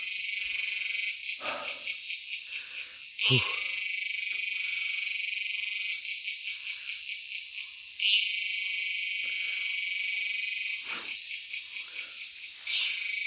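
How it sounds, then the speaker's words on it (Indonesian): Crickets chirp in a dense, continuous high trill outdoors along a bamboo path, with a few soft thumps and rustles underneath. "Kedengeran nih suara-suara burung. Apalagi nih, jangkrik."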